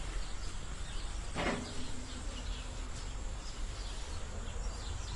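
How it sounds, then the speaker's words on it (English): Cicadas drone outdoors in a steady, continuous high buzz that fills the whole stretch, with faint chirps and a brief louder sound partway through. "The cicadas are finally quieted down a little bit."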